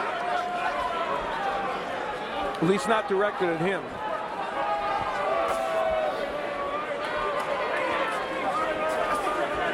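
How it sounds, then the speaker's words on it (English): Boxing arena crowd during the Keith Thurman vs Leonard Bundu fight, a steady loud murmur of chatter and hubbub with a brief swell of shouting, people talking close by over the crowd throughout. "This is not a sound from a crowd that Keith Thurman has ever heard"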